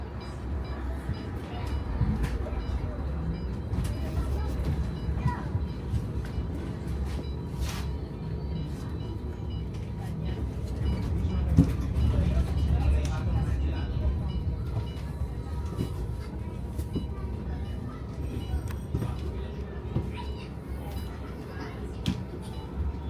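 Ride aboard a London bus on route 199, a steady low engine and road rumble with rattles and creaks throughout, while a person speaks over the noise.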